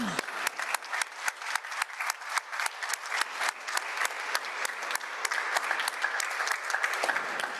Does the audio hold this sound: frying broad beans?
no